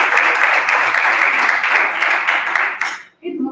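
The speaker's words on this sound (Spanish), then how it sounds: "Un aplauso para ella." An audience at an event applauds a Seattle ceramist with a steady, dense round of clapping for about three seconds before it stops abruptly and a voice begins talking.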